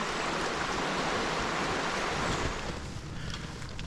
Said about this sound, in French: Écoutez le petit bruit de l'eau, des rapides, les tourbillons, les vortex